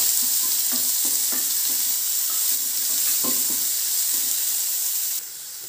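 Finely chopped onion fries in oil for a butter milk sambar, a loud, dense, continuous sizzle with a few soft stirring knocks, dropping slightly quieter just before the end.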